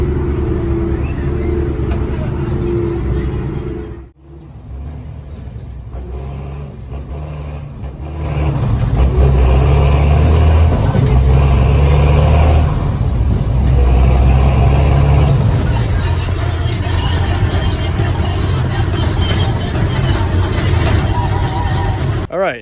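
Rumbling ride aboard a school bus in Santa Ana, El Salvador, with loud engine and road drone throughout, a brief lull, then heavier low roar as it accelerates, people talking under the noise.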